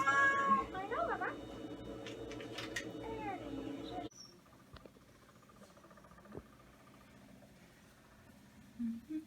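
A cat meows loudly and repeatedly on a veterinary table while blood is drawn from its medial saphenous vein, with clinic background noise continuing after the meowing stops.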